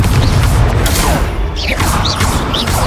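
A Confringo explosive spell blast in Hogwarts Legacy during a dueling match, with loud crackling bursts and magical whooshes layered over a steady rumbling din.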